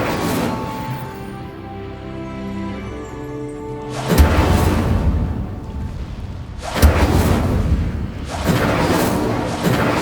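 The Incendio fire spell blasts out in Hogwarts Legacy: deep, booming bursts with a whooshing burn, two heavy blasts arriving a few seconds apart after a quieter lead-in.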